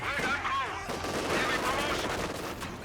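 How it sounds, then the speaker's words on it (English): A Company of Heroes 2 match is a dense wash of battlefield noise, with rattling gunfire and heavy blasts including a grenade explosion, continuous and loud under a commentator's voice. "Oh my god, big grenade!"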